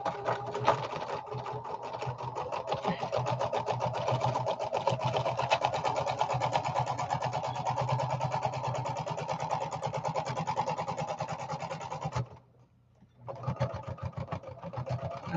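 Sewing machine fitted with a medium weight double knit needle stitching a fabric strip, a fast steady mechanical whir close up that stops abruptly for a moment near the end, then starts again.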